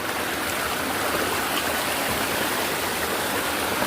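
Water at the Chamanu waterfall in Tripura rushes in a dense, unbroken roar, close and steady throughout with no pauses or other sounds.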